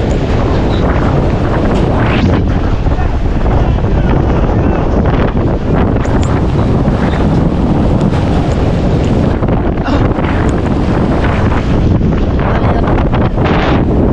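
Strong, roaring super typhoon wind in the Philippines buffets the microphone continuously, a loud broadband rush with gusts surging throughout.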